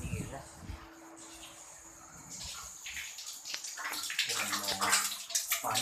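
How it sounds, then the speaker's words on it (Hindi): Water pours and splashes while school uniform clothes are washed by hand, starting faint and growing louder and steadier toward the end, with a voice talking faintly in the background. "पानी गिर रहा"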